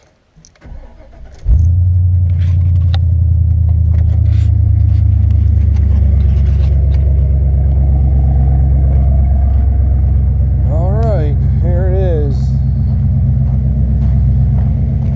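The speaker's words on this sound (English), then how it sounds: "let me start this truck up" A pickup truck engine cranks briefly and catches, then settles into a steady, loud, close-up idle rumble that continues unbroken to the end, with a short high chirping tone briefly over it near the end.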